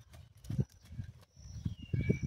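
Horse hooves clop along at a steady walking pace, moderately close, with a high whinny-like tone rising faintly in the background.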